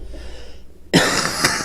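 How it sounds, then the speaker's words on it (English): A person with a lingering bad cough from recent illness gives one harsh, loud cough after a quiet lead-in, followed by a brief rough throat-clearing sound close to the microphone. "I still have this really bad cough, and it's really frustrating."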